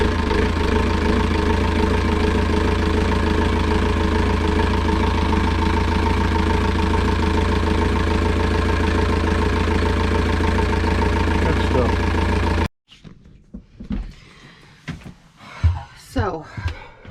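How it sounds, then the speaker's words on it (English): Sailboat diesel engine idling after its fuel system is bled, a steady loud knocking hum that runs for over twelve seconds, then cuts abruptly, leaving scattered knocks and movement sounds. "Let's see if this engine will start."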